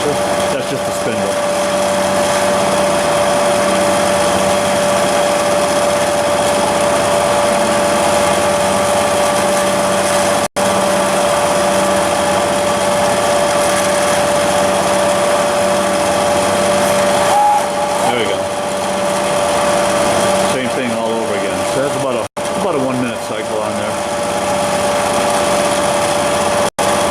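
A Bridgeport CNC knee-type vertical milling machine (V2XT, 3-axis) runs its spindle with a loud, steady high whine and a constant tone, continuing for the whole stretch, with brief dropouts and a shift near the end.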